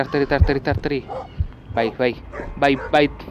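A dog in the horror game Metel Horror Escape barks and yips in quick repeated bursts, two clusters of sharp barks close up, with a short pause between them.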